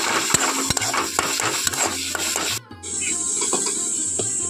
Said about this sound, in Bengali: তো সবগুলো উপকরণ খুব ভালোভাবে আমি নাড়াচাড়া করে নিচ্ছি।